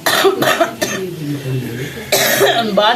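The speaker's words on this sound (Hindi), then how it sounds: "खांसी इतनी ज्यादा आ रही है कि पूछो मत" Several harsh, close coughs come in quick bursts, with a pause and a softer throaty sound between them, then more coughing.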